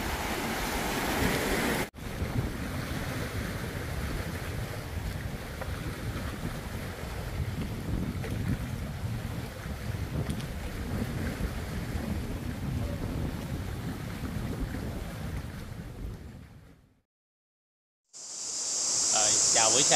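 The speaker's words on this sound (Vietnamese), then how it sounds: "Tối hôm qua thì vẫn gió quá nha, gió với sóng cao quá" Strong wind and rough high waves buffet a deserted island shore at night, a steady loud roar of gusts and surf battering the microphone that suddenly cuts out near the end, then returns.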